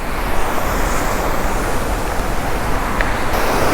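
Rushing water at Ekayam Waterfalls in Idukki during the monsoon, a steady, loud broadband roar of falling water that continues unbroken from start to finish with no voices.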